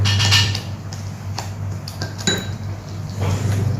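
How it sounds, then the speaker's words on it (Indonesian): A spoon stirs homemade tomato sauce in a pot, giving light scraping and clinking taps against the metal over a steady background hum. "Kita aduk lagi."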